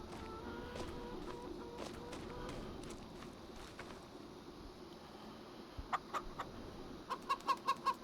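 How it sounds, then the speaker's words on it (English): Chickens cluck and chatter close by over a steady farmyard background, with a run of sharper, rhythmic clucks toward the end. "The chickens seem happy enough."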